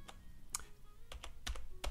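Keys on a computer keyboard are tapped to enter a name during play of a strategy game, in a handful of quiet, irregular clicks with short gaps between them.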